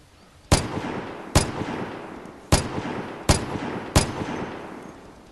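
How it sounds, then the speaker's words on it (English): Five single shots from a Vigor LMG light machine gun in a video game, tap-fired at uneven intervals of about a second. Each loud crack is followed by a short decaying tail, with no talking. "So you can't just simply tap fire this gun that accurate anymore."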